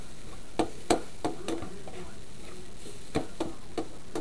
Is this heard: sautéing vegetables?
yes